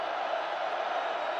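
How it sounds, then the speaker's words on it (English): Football stadium crowd at a USC versus Fresno State game in 2005, a broad, steady, loud roar of cheering with no breaks. "This crowd absolutely alive."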